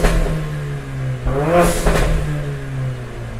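A Mercedes-Benz CLA45 AMG with an Armytrix valved exhaust, valves open, revs loudly and close up, the engine note rising and falling through several sharp blips.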